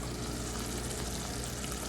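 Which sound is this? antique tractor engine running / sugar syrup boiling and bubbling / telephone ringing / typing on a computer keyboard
sugar syrup boiling and bubbling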